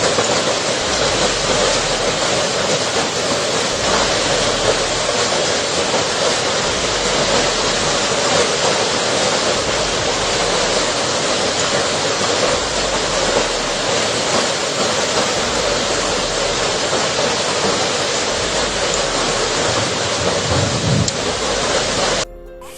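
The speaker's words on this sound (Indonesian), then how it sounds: "Ya Allah, hujan es, Masya Allah" Hail pounds house roofs in Cianjur during a hailstorm, with a dense, continuous, loud roar of impacts that fills the whole span, then drops off abruptly at the end.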